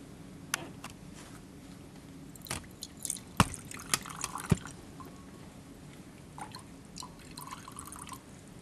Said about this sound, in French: Et renverser 60 grammes d'eau.